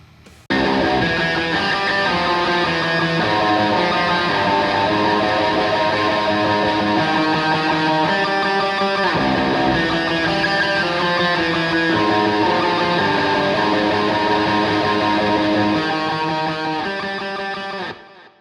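Clean center guitar track from a metal mix, drenched in delay and reverb, plays a dense, continuous ringing part for about seventeen seconds before tailing off, loud and alone without talking.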